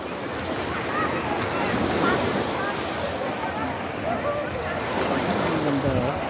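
Ocean waves wash steadily onto the shore at Boracay's Station 3 beach, a continuous broad surf roar with wind buffeting the microphone and a busy crowd murmuring faintly in the background.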